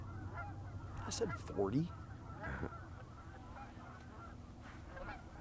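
A flock of geese honks across a snowy field during a snowstorm, repeated calls rising loud in a burst near the middle over steady wind noise, with someone speaking briefly.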